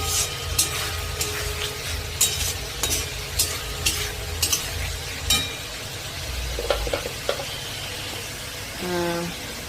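Spices frying for a papaya and potato curry, a continuous close sizzle with repeated sharp stirring scrapes against the pan and a brief rising liquid gurgle near the end.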